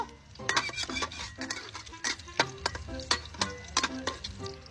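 Eggs fry in a pan with soft sizzling under sharp scraping and clinking of a utensil against the pan, the metallic strokes coming in an irregular rhythm close by.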